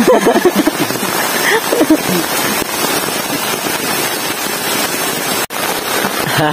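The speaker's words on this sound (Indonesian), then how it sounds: "kita hujan-hujanan guys" Rain falls steadily in a Sumatran forest on Mount Rajabasa, a dense, loud patter filling the whole scene with voices talking over it.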